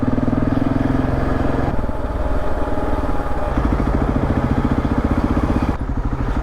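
A car engine running with its entire exhaust missing gives a loud, raw, rapidly pulsing rumble that holds steady and close throughout on a road in Iran.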